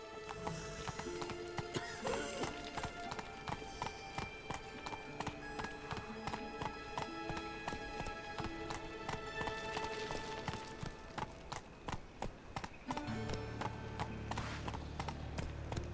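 Roach the horse galloping in The Witcher 3: Wild Hunt, a steady rhythmic clip-clop of hooves close by throughout, with orchestral music layered underneath.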